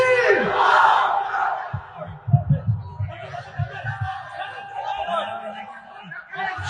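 A crowd at an outdoor religious gathering shouts takbir, chanting Allahu Akbar together. The shouts come in rising waves with rough, overlapping voices of varying strength, and some scattered chatter runs underneath.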